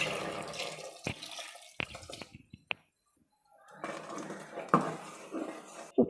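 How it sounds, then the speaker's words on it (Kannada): Water poured into a pot of soya curry with potatoes and ground masala, splashing and clinking against the metal in short bursts, with a brief quiet gap midway before a steadier pour. "ಈಗ ನೀರು ಸೇರಿಸ್ಕೊಳ್ತೀನಿ"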